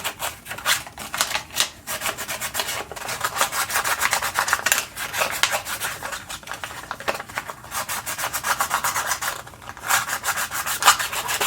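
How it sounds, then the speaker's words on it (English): Fine sandpaper rubbed over a 3D printed mask, a steady close scratchy rasp in quick back-and-forth strokes with brief pauses, heard alone. "So just use your fine sandpaper and sand the whole thing."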